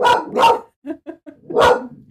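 A dog barks loudly and close by, two sharp barks, then a few short whimpering yips and one more bark, in a quiet indoor room with no talk.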